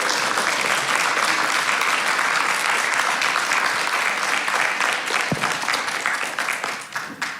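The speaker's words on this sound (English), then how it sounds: "let's just give him a really big round of applause." A church congregation at a Sunday service gives a big, sustained round of applause that fills the room, then thins and tapers off near the end.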